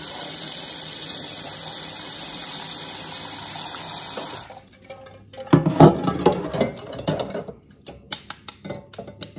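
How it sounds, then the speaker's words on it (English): Tap water gushes steadily into a pot of hot boiled eggs for several seconds and then stops, followed by clattering, splashing and knocking of eggs and the pot nearby. "Add a little bit more water over the top"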